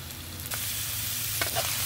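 Ground meat and mushrooms fry in butter in a pan with garlic and onion, a steady loud sizzle with a few soft stirring scrapes, close up and without any talking.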